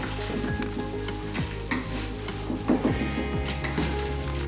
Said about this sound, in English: You want to give this a quick toss